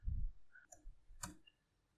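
Quiet scattered clicks of computer keyboard keys being pressed, a few separate taps including a Control C key combination, close and faint with no talking.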